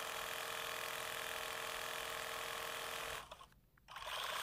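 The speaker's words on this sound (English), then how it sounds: "I'm going to come down with my satin stitch and cover the starts and stops on my handle" A sewing machine satin stitches over the starts and stops of a raw edge appliqué handle on a quilt block cup, running as a steady, close mechanical hum with no voices before it stops briefly near the end.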